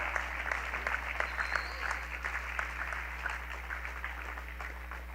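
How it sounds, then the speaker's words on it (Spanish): Applause from a church congregation during a sermon, steady crowd clapping with a strong low hum underneath, moderately distant and even throughout. "Alguien déle un aplauso al Espíritu de Cristo."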